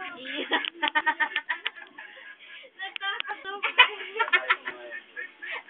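Birds call in quick repeated bursts of bright, tonal chirps, several short runs close by with brief gaps between them.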